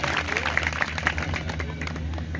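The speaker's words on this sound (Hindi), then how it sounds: "क्लैपिंग, ताली बजानी।" Students clapping in a classroom, a dense burst of applause with some crowd noise and a low hum beneath.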